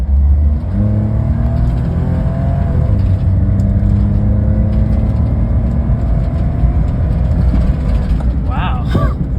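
A Honda kei van accelerates on a street, its engine droning and rising through the gears as heard from inside the cabin, loud and continuous, with a short burst of higher-pitched sound near the end.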